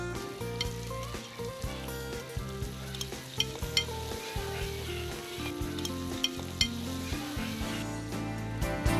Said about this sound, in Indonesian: Pertama-tama goreng potongan bawang merah dan bawang putih, lalu barulah masukkan potongan daging ikan, cumi, dan udang untuk ditumis.